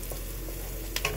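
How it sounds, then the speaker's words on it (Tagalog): Garlic toasts in a pan with a low, steady sizzle and a couple of faint utensil taps near the end. "So, i-toasted ko lang yung bawang para ma-flavor siya."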